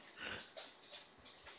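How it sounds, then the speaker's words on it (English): A dog barks outside, wanting to be let in: a few faint, distant barks spaced across a short stretch, with no talking. "he was barking. He wanted to get let in"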